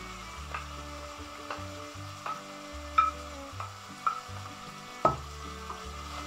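Onion sizzling as it fries in rendered bacon fat with venison, stirred now and then, giving soft scraping pulses over a steady crackle, close and alone with no talk.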